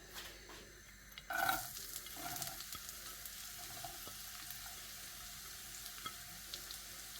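Chopped onions dropped into hot oil for paneer butter masala, a sudden burst of sizzle that settles into a steady frying hiss with faint scrapes of a spoon.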